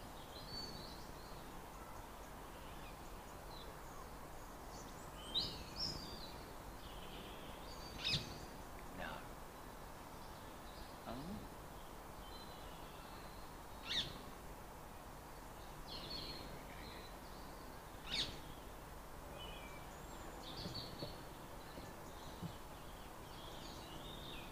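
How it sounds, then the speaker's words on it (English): Blackbird and robin singing outdoors at dusk, scattered short chirps and song phrases standing out faintly over a steady broadband background hum. "It's usually the blackbird that's the last to sing, and the robin."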